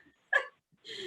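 A dog gives two short barks in a room during a commission meeting: a sharp yelp, then a longer whining bark a moment later. Both are moderately loud with quiet gaps around them.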